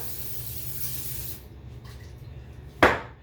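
A steady hiss of cooking spray onto a baking sheet fades out, then one short, sharp spritz of the spray can bursts out near the end.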